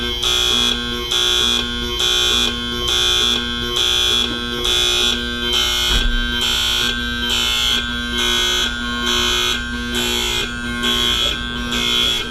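Gas cabinet alarms blaring in a steady pulsing pattern of loud electronic beeps, repeating about once a second throughout with a constant tonal hum beneath.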